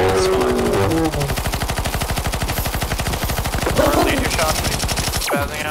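Sustained rapid automatic fire in a Counter-Strike 2 zombie escape match, a long dense burst of near, loud shots with players talking over it and a brief sweeping tone near the end.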